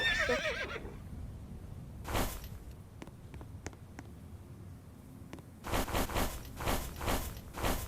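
A horse whinnies near the start in a video game, followed by sparse clicks and clip-clopping hooves, then a rapid run of rhythmic hoof thuds toward the end.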